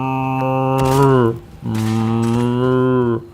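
A man imitates a cow with two long, low mooing calls separated by a short breath, loud and close, with nothing else heard.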